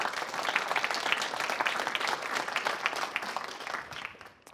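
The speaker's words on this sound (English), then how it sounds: "So let's give Pat a round of applause" Sustained round of applause from an audience at a university engineering startup competition, dense clapping that holds steady for several seconds and then tapers off near the end.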